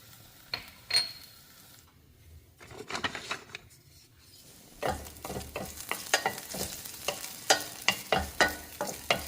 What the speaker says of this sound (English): I'm going to sort of saute and make everything aromatic with those scallion whites